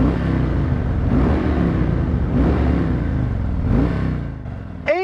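A car engine revs through its exhaust in a series of rising and falling surges, loud and close with a throaty rumble, easing off near the end with a brief squeak.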